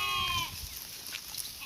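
Sheep grazing in an idle field let out a short bleat at the start, followed by quiet outdoor background.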